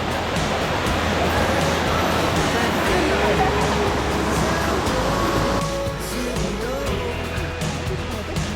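A loud waterfall on a mountain hike near Sofia, Bulgaria, a dense continuous roar of rushing water that eases slightly toward the end, with faint voices underneath.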